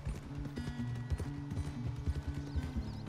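Horse hooves clip-clop at a steady riding pace in Red Dead Redemption 2, close and fairly loud, with brief game ambience and no talking.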